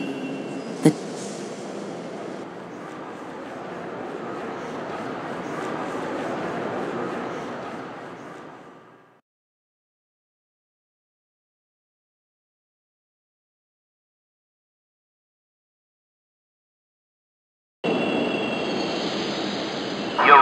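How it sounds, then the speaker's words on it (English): A train arriving at a station, with a steady rumble and wheel noise for several seconds that then fades to silence before the sound of the train returns abruptly near the end. "Please do not rush onto the train. The door is now closing."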